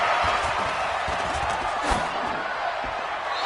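Stadium crowd at a football game on third and goal near the goal line, a dense, steady roar of many voices filling the whole clip, loud and continuous with a brief swell near the middle.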